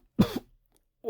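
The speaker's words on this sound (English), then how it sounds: "who coughed up a glob of reddish-orange bile" A single harsh, wet cough up close, brief and loud, then silence before a faint onset of another sound at the end.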